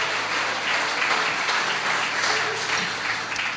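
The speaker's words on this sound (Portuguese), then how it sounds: "pode aplaudir o Senhor" A church congregation applauds together in a steady, dense wash of clapping that holds at an even level throughout, with no voices standing out.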